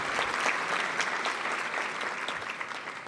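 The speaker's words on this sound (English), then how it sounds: "let's give you a round of applause" A luncheon audience gives a steady round of applause, many hands clapping together in a continuous, even crackle at moderate loudness.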